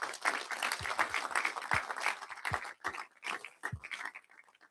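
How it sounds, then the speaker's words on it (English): Audience applause at a competition event greeting a national champion coming on stage, a dense patter of clapping with a few louder individual claps, fading out near the end. "Let's give Vu a round of applause"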